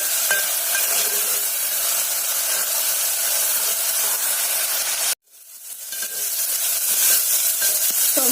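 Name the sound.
tomatoes frying in oil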